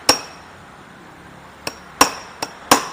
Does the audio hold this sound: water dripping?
no